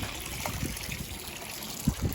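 Water mixed with pH down is poured into a koi breeding pond, a short, close trickle and splash with a couple of small gushes.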